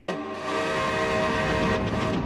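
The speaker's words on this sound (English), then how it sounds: "A ghost train!" A cartoon ghost train approaches with a loud, sustained horn blast over a heavy rolling rumble, starting abruptly and staying close and powerful.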